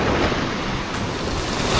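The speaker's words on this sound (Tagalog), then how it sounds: "Lakas ng alon." Powerful ocean waves pounding a beach: a close, dense wash of surf and rushing water with strong wind noise on the microphone, steady and loud for the whole brief stretch, no talking.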